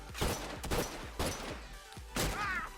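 Hunting rifle gunfire rings out in a video game match: several sharp, loud shots fire at an uneven pace, each with a short ringing tail.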